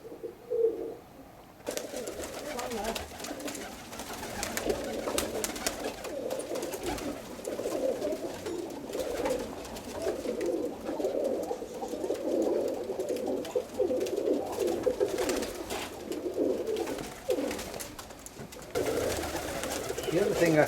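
Roller pigeons coo in a loft in soft, repeated throaty rolls, several birds overlapping close by for a long stretch, with occasional faint rustles and knocks in the background.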